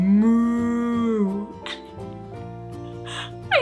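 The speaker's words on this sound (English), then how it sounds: "it's a cow." A cow moos loudly and up close, one long drawn-out low call that fades out, followed by short breathy snorts and rustles.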